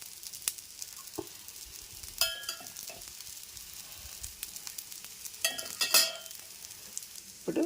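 Moong dal pesarattu batter sizzles on a hot pan with a soft, steady fry hiss, joined by occasional louder scraping and spatula taps close by, with no talking.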